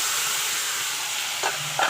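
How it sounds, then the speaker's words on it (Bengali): Prawns and spices frying in a pan give a steady, close sizzle with a hissing wash, and a couple of brief stirring scrapes come near the end. "ভেজে নিচ্ছি"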